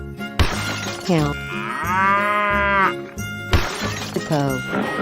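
A cow lets out a long, loud moo that rises and holds, with brief voices and clatter just before and after it.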